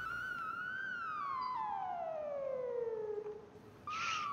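Fire engine siren from the EmergeNYC firefighting game, a single loud wail sweeping slowly downward in pitch over about three seconds, then cutting off into a short burst of harsh noise.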